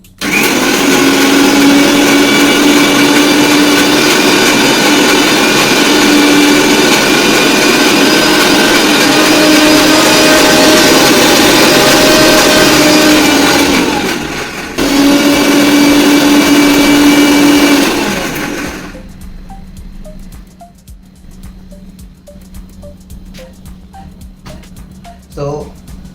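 A mixer grinder blending chutney roars loudly and steadily for a long stretch, briefly stopping and restarting midway before cutting off, leaving quieter room sounds with occasional clicks.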